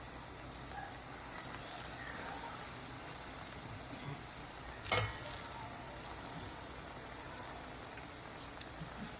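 Banana fritters fry in hot oil, a quiet continuous sizzle and bubbling with one brief sharp clatter midway, otherwise steady and low.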